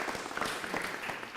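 A short burst of audience clapping erupts at a DD Kisan rural panel discussion on a cow sanctuary, brisk and fairly close, lasting only a moment.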